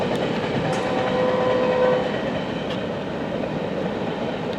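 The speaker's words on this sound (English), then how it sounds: "Metrolink 113 with an MP36 leading" Metrolink 113 passenger train with an MP36 locomotive leading rolls past close by, a loud steady rumble of wheels and cars with clickety-clack and a brief horn-like tone, continuous throughout.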